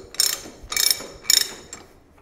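A 1.5 inch socket on a ratchet backs off the steering head nut of a Harley Davidson motorcycle, giving three loud rapid clicking bursts and a fainter fourth, close by, with no talk.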